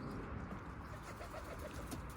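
Pigeons coo softly in a few low, rolling phrases over a steady background hum, close but faint, with no talking.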